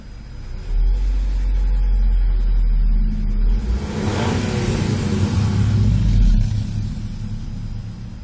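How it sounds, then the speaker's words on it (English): Stock 2005 Nissan Altima 2.5 four-cylinder heard from inside the cabin, its engine idling low, then rising in a rev that swells and eases back to a steady rumble. "This is the in-cabin sound, stock."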